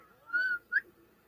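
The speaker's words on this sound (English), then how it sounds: "I have the most pitiful whistle." A person whistles two short, thin notes, the first slightly longer, then a brief upward one, faint and close against a quiet room.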